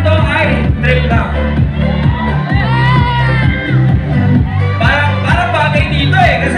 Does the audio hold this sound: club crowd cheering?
yes